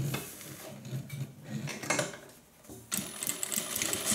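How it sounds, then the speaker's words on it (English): A sewing machine stitches a zip pocket onto a fabric wristlet, whirring in short runs separated by brief pauses, with a louder, steadier burst of stitching near the end. "Make sure I'm not sewing over the little silver tab thing."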